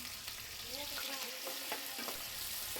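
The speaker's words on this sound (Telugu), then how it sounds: "తర్వాత 4 పచ్చిమిరపకాయలు, కట్ చేసి పెట్టుకున్న ఉల్లిపాయలు వేసుకుందాం." Four green chillies and chopped onions frying for a mutton curry with sorrel leaves, a soft continuous sizzle with a few light stirring scrapes, quiet and close.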